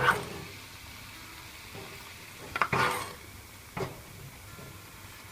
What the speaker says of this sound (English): keep stirring until all dissolves